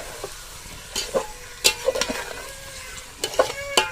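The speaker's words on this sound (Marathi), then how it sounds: "माशाचे तुकडे यामध्ये टाकल्यानंतर हे परतून घ्यायचे" Fish pieces coated in masala are stirred and turned in a pan over a soft sizzle. Sharp scraping strokes of the spatula come in irregular bursts.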